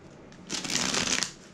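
Tarot cards shuffled close by, a quick riffling flutter swelling for about a second over a quiet background.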